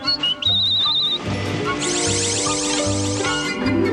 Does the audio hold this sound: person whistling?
yes